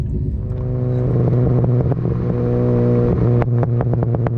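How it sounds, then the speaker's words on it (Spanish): A Mini Cooper S R53 idles and revs with a throbbing engine note, then crackles and pops from the exhaust off throttle, with a rapid run of sharp bangs near the end, loud and close. "Los peditos cuando uno suelta el acelerador."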